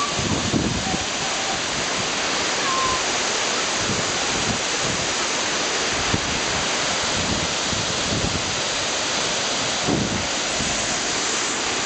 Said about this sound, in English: there's a real good breeze blowing off the waterfalls